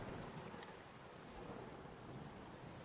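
Thunderstorm sound effect playing behind a tabletop roleplaying game: steady rain hiss with low rumbling thunder throughout, moderately faint and continuous, no talking.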